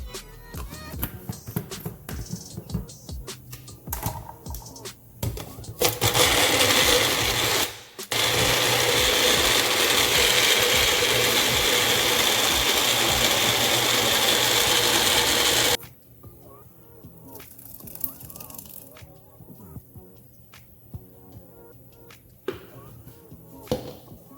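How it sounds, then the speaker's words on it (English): A kitchen blender purees Jamaican peanut and plantain porridge with added water, a loud steady whir of about ten seconds between quieter handling noises. "Get this in the blender"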